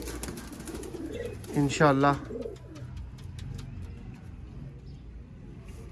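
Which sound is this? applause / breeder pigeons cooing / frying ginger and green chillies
breeder pigeons cooing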